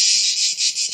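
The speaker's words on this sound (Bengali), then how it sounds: "দেশীয় ঝিঝি পোকার ডাক আমাদের মাথার উপরে" Native crickets chirp overhead on a hillside near Monfalcone, Italy, a loud, close, unbroken high trill that swells and dips in quick pulses.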